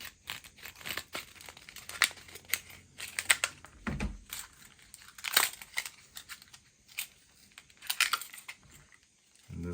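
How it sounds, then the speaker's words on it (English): Scissors from a Hyper Tough set snip through packaging up close, with crisp cuts and crinkling plastic coming in irregular bursts and pauses, fairly quiet. "Let's use these scissors and cut that real quick."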